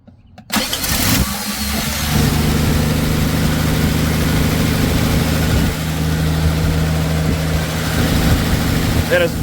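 A Dodge Slant 6 engine with a new mini starter cold-starting after a brief crank, catching almost at once and settling into a steady, loud, rumbling idle.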